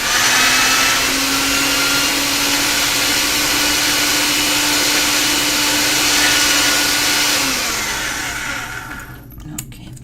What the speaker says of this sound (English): get it through the pasta machine one more time